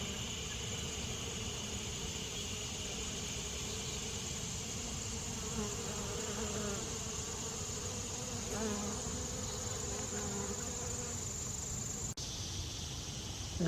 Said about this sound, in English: Listen to the bees on the partridge pea flowers.